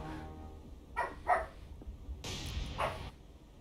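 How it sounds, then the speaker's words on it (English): Dogs bark in the War on the Seas naval game, a few short yelps and barks in quick bursts, moderately close but fairly quiet, with no talking over them. "Dogs are going nuts."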